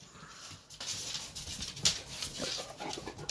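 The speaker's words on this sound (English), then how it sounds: "Dogs in my face." A dog close by, whimpering softly and panting, with faint breathy snuffling and a brief higher whine in a quiet indoor room.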